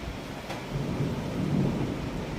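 Thunder rolls through a lightning storm with steady rain, a broad low rumble swelling and then holding for a couple of seconds, with no voices.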